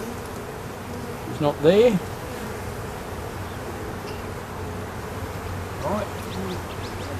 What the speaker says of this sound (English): You need to look at all the bees.